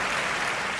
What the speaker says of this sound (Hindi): जोरदार तालियों के साथ आप उनका स्वागत करें